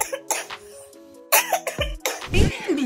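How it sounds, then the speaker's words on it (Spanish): A man coughs in several loud, close bursts, some rough and throaty, with short pauses between them. "Voy a parar porque me dio tos."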